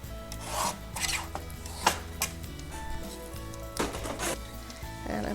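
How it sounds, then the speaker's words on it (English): Cardstock for a spring card being trimmed on a paper trimmer, a repeated rasping slide of the blade with light rubbing in between, close and steady, no talking. "I'm going to go ahead and trim the rest of this off."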